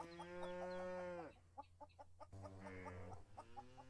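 Chickens cluck and squawk repeatedly in a farming and supermarket simulator game, loud and close, with several birds calling in overlapping bursts and no talk.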